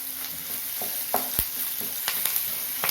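Curry leaves sautéing in a pan for a peppery garlic kuzhambu give off a steady close sizzle, with a few sharp crackles and spatters popping over it. No one speaks.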